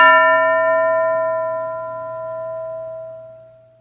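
A single bell strike rings out clearly and close, its bright metallic tone sustaining and slowly fading over a few seconds.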